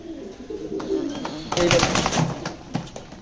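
A pair of racing maxi pigeons coo close by in soft, throaty bursts, with rustling and a few brighter sounds in the second half; a voice speaks quietly underneath.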